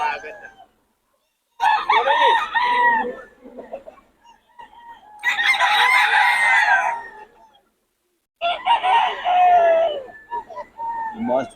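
Roosters crow in three separate bursts with short quiet gaps between them, and some clucking mixed in. The calls are fairly loud and nearby.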